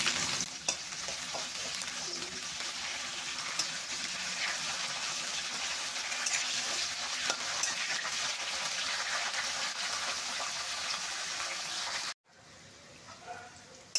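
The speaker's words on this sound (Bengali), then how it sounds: "এরপর আমরা ফুলকপিগুলোকে ভেজে নিচ্ছি।" Cauliflower frying in a pan with a steady, close sizzle and occasional stirring, then an abrupt drop to a quieter hiss near the end.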